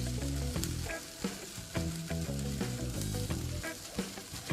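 Onions sizzle on a buttered dosa at a street-food stall making pizza dosa, a steady loud frying hiss with tonal music running underneath and sharp scraping or tapping accents every second or so.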